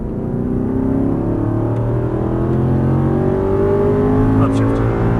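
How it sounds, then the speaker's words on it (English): A race car accelerates hard out of a turn, engine note rising steadily and loud from close up over five seconds, with a voice talking over it and a brief higher squeal near the end. "turn in, back on the throttle, hard on the throttle"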